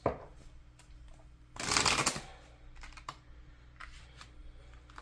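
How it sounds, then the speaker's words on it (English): A deck of tarot cards is riffled in one dense, close burst of papery shuffling that lasts about a second, followed by a few light taps and card handling in a quiet room. "I feel like I need to give this a little bit of a shuffle."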